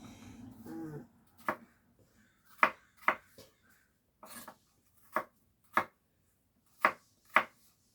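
Knife strokes through apples being prepared for homemade organic applesauce make a series of crisp, separate cuts, about eight distinct taps spread unevenly, with faint low murmuring at the start.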